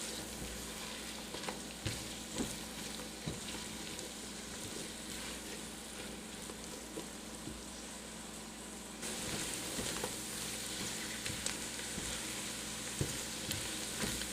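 Vegetables sizzle steadily in a hot pan for a shrimp and coconut milk dish, with a continuous frying hiss broken by occasional scrapes and knocks of a stirring utensil close by.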